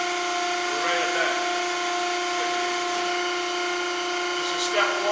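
A Pines programmable mandrel tube bending machine bends a 3-inch tube to 90 degrees. Its steady mechanical whine stays close and even throughout.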